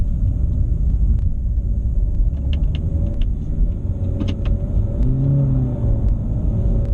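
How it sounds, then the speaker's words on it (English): A 2017 Honda Civic hatchback with a CVT transmission drives along, a steady low engine and road rumble with no shifting breaks, heard from inside the car with a few faint clicks and rattles. "Now it does have the CVT transmission, and so it never really shifts. It's constantly shifting."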